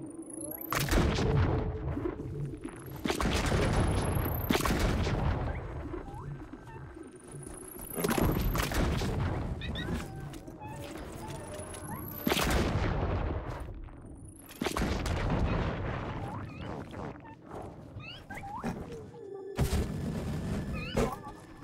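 Bombs explode one after another in Journey to the Savage Planet, making sharp, loud blasts with rumbling tails at irregular intervals amid game sounds.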